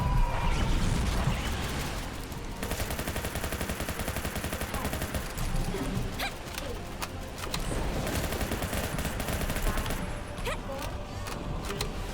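Sustained gunfire in the League of Maidens video game, dense rapid shots and bursts running continuously under a busy game mix, with a voice talking over parts of it.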